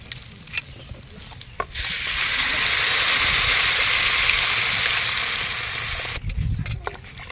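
Loud, steady sizzling of ground spice paste frying in a hot pan for fish curry, bursting in suddenly and holding for several seconds before cutting off, with faint clatter around it.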